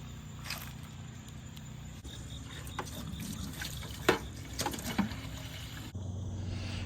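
Water from a neighbor's outdoor hookup trickles and splashes faintly in the open air, with a few louder sloshes and drips over a low background hum.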